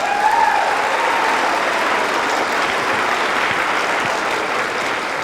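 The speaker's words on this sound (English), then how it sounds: "can we get a hand of applause for that?" A concert audience gives sustained, even applause in a hall for the Fremont Symphony, a dense wash of clapping that stays steady and fairly loud from start to finish.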